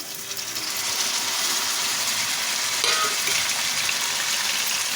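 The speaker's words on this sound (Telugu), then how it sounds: "ఇప్పుడు మూడు టమాటీలు చిన్న చిన్న ముక్కలుగా కోసి వేసుకుంటున్నాను" Chopped tomatoes going into hot ginger garlic paste for dal khichdi, a loud, dense, continuous sizzle that swells slightly early on and holds steady, close by with no talking.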